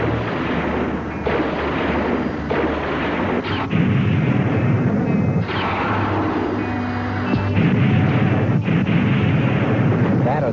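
An artillery battery firing in a film, a dense loud barrage of booming blasts and rumbling explosions, one after another, with no break in the roar.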